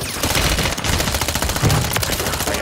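Dense, loud gunfire in a video game firefight, overlapping rapid shots forming a continuous barrage for under three seconds, close and harsh with no clear talk.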